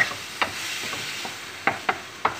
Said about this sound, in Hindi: इसमें मैं अब चिकन डाल दूँगी और चिकन को मैं अच्छा सा भून लूँगी